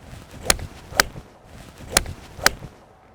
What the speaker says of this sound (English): Wow, you pounded that ball.